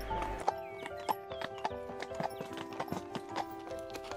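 Horse hooves clip-clopping at a steady walking pace during a riding trek through mountainous countryside, regular clear hoof strikes heard near, over a tonal musical background.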